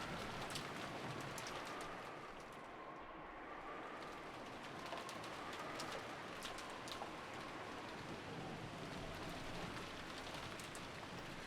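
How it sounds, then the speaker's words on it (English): Video game rain pours in a dense, steady hiss with scattered drop taps that carries on unbroken and evenly loud throughout, with a faint low tone drifting beneath it. "disappeared beneath the sound of the rain"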